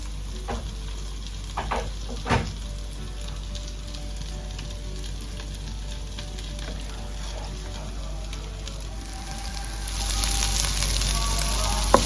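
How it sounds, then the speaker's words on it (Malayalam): Onions sautéing in a pan for mutton bone curry, a steady low sizzle with a few spoon knocks early on, the frying growing louder and brighter near the end. "നമ്മുടെ ഉള്ളിയൊക്കെ ഇവിടെ വഴന്നു വന്നിട്ടുണ്ട്"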